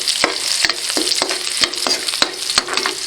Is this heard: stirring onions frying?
yes